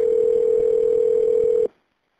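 A telephone dial tone sounds after a 911 emergency call is disconnected: a single loud, steady tone that holds for about a second and a half, then cuts off into silence.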